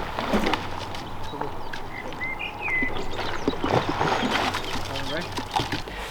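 Birds chirp and tweet in short bursts in the background beside a small river next to a racing lake, mixed with water sounds and people talking.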